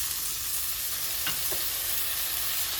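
Carrots, beans and cauliflower frying in a pan for upma give a steady close sizzle throughout, with a couple of brief scraping strokes of stirring in the middle.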